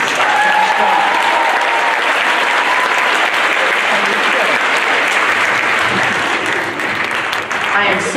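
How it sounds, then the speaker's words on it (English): Audience applause at a school choir concert, loud and steady from a large crowd, dense continuous clapping filling the room for the whole stretch with a faint voice underneath. "Another great job and round of applause for Indian Trail"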